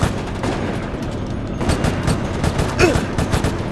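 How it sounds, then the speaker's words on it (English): Sustained bursts of automatic gunfire in Resident Evil: Operation Raccoon City rattle close and loud, with repeated cracks and a brief pitched sound near the end. "Open fire. Shooting."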